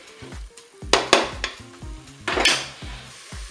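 Tomatoes tumble into fish soup in a Cookeo pot with a few wet plops and sharp clinks of a utensil against the metal pot, spaced irregularly over a soft sizzle, with no one talking.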